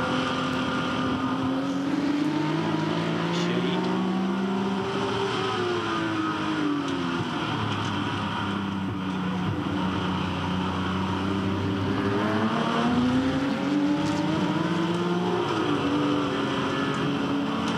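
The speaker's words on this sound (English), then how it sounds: "Just watch him ease back out of the throttle just before he changes gears there." Touring Car Masters race car at Hidden Valley Raceway, its engine loud and continuous, easing off the throttle with pitch sweeping down and back up through gear changes, alone without talk.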